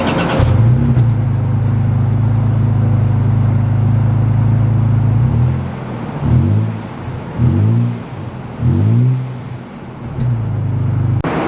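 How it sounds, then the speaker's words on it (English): A 2023 Toyota Tacoma TRD Pro with the TRD exhaust idles loud and close at first, then gives three or four sharp revs in quick succession before settling back to a deep rumble. "You got the TRD exhaust, which sounds so cool."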